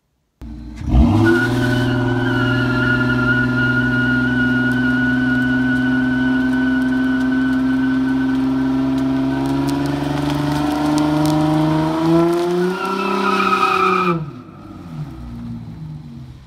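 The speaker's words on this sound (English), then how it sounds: "Okay, so here's some footage of my burnout." An automatic-transmission car doing a burnout roars up to a loud, sustained high-revving drone with a smeared tire squeal layered over it, holding steady for about thirteen seconds before cutting off abruptly, close and with no talk.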